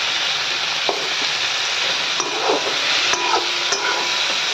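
Potatoes and onion fry in a pan with cumin seeds, ginger, garlic, coriander and other spices, a continuous loud close sizzle broken by several sharp spatula scrapes and clacks against the pan.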